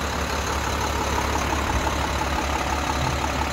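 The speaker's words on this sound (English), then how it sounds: "We got another video of the engine running." A diesel engine in a 2005 International 7400 4x4 crew cab flatdeck picker truck idles steadily nearby, a constant low rumble with a slight rattle and no other sounds.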